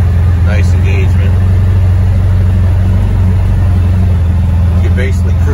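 CFMOTO Uforce 600 side-by-side with a modified RNG clutch, its engine humming steadily at higher RPM, loud and close throughout with a few faint other sounds on top.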